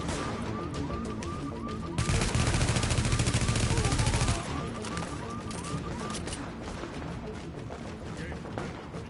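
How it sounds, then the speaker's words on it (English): Gunfire from NPC enemies in The Division crackles in repeated shots, with a dense sustained burst of automatic fire for a couple of seconds before scattered pops continue at moderate distance. "I don't know who's shooting at me."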